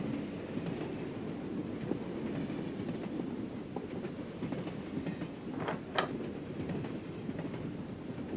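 Steady rumble of a moving train on rails, continuous and fairly close, with faint rhythmic wheel clatter and a brief higher squeal near the end, no voices.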